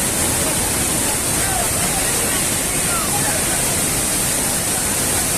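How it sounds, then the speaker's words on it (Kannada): Kalhatti Falls in Chikkamagaluru runs full with muddy monsoon water, a steady broadband roar of falling water that fills the whole stretch without a break. "ಚಿಕ್ಕಮಗಳೂರಲ್ಲಿ ಮೈದುಕಿ ಹರಿಯುತ್ತಿದೆ ಕಲತಗಿರಿ ಫಾಲ್ಸ್"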